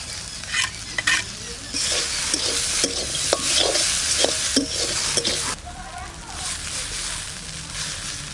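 Mixed small freshwater fish fry in a pan with a steady sizzle while a spatula stirs them, scraping and clicking in uneven strokes.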